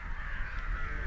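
Crows caw at a garbage dump in Sri Lanka strewn with plastic waste, a steady, fairly loud harsh calling that fills the brief moment with no voices.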